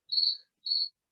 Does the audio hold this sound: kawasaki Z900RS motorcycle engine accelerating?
no